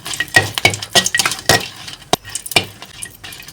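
A Tulu-style jackfruit and chickpea curry is stirred as it fries: loud, close scrapes and metallic clinks of a spoon against the pot come in quick irregular bursts over a faint sizzle.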